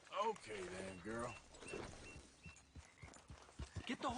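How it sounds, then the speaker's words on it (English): Horse hooves clip-clop in a video game, a loose run of sharp knocks in the second half under steady close conversation. "Get the horse out of here."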